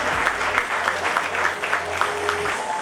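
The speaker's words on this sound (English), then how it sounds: "a huge round of applause" An audience at a medical society's annual fashion show in Mumbai applauds to welcome a guest, a steady patter of clapping from a crowd that continues throughout, with a voice faintly audible underneath.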